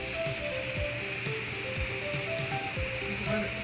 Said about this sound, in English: The steam is coming out.